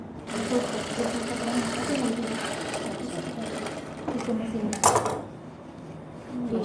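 A sewing machine stitches hosiery fabric for a belt blouse, a steady rapid whir running through most of the stretch while someone talks over it, with a brief louder clatter near the end.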